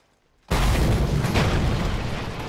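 An explosion in the Mad Max video game bursts in abruptly after near silence, a loud, dense boom that holds a sustained roar for about two seconds.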